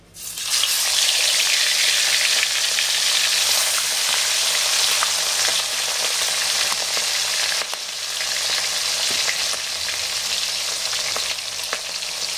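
Fish fried in hot mustard oil, the large piece going in first, sizzles loud and close in a dense, continuous hiss with faint spatters and no voices.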